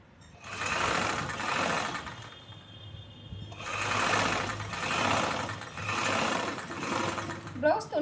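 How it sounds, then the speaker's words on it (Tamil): A sewing machine stitches along the folded edge of a blouse piece in repeated runs of motor whirring and needle rattle, with brief pauses between bursts and a speaking voice in the background. "பீஸோட ஓரமாக ஒரு தையல் போடுறோம்."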